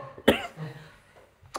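A single sharp cough, close and loud, followed by a softer throaty rasp, then a brief second burst at the end.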